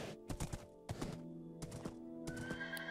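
A horse in the Minecraft survival game on Xbox One whinnies and snorts in short bursts, mixed with hollow clip-clop hoof thuds, close and fairly loud with no talk over it.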